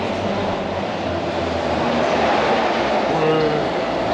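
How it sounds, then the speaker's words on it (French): A maglev high-speed train in China running steadily as a continuous loud rushing roar of motion and wind, heard from close by for the whole stretch. "Ouais, le maglev."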